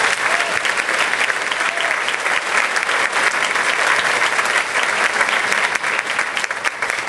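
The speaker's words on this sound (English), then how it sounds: "Let's give that program a round of applause." An audience at a community event gives a loud, sustained round of applause for a local college film and television program, dense clapping filling the whole stretch without pause.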